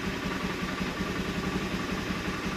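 A vehicle engine idles close by with a dense, steady rumble and a fast, even chugging pulse that holds without change. No one speaks.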